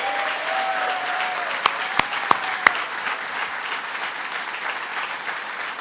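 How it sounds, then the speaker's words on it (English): Big, steady applause for Assembly members at a Governor Cuomo housing announcement, a thick roar of clapping from a large crowd with a few sharp clicks and a faint tone running under it. "let's give them a big round of applause"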